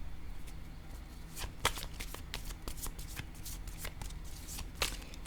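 A deck of cards riffled and shuffled nearby in quick bursts of crisp flutters and snaps, with faint room noise beneath.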